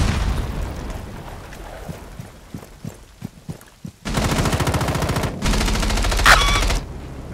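A C4 charge detonates in Rainbow Six Siege on the Hereford map during a bomb match, giving a loud sustained roar and crackle after a series of sharp pops, with heavy rumbling bursts filling the last few seconds.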